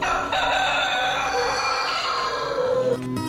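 A rooster crows in a radio jingle, one long, loud, close cock-a-doodle-doo that fills the short spot before cutting off at the end.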